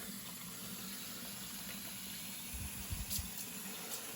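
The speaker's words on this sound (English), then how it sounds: "introduce it to hot water to get more of the dye out" Hot tap water runs steadily over a tie-dyed blue and purple fanfold vest being rinsed in a sink, a continuous close splash with a few louder gurgles as the fabric shifts under the stream.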